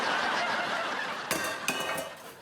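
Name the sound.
washing dishes, pots clinking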